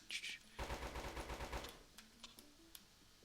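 Automatic weapon fire in a first-person shooter game rattles out in one rapid burst of roughly a dozen shots, followed by a few scattered single pops and a quiet tail.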